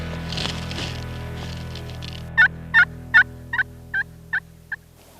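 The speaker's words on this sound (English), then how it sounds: "Boom, just like that, a hen responded." Wild turkey hen calling on a Wyoming mountain, a string of about seven sharp, evenly spaced yelps, clear and moderately close against a quiet outdoor background.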